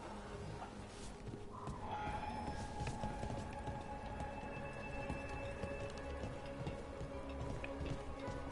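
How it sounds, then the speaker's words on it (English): Steady rain in the video game Dragon Age: The Veilguard patters and hisses throughout, with a soft low rumble beneath and faint scattered ticks, even and unbroken. "Raining again."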